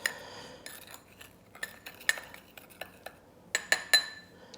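Metal utensil clinking against a bowl while rugelach ingredients are mixed together, with sharp, irregular taps and scrapes close by that bunch up near the end.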